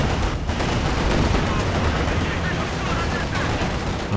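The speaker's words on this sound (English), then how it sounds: "Trying to clear off the machine gun with the Katyusha rockets" Dense barrage of Katyusha rocket artillery in the video game Company of Heroes 2, a continuous loud roar of launches and explosions with gunfire layered in, steady and unbroken throughout.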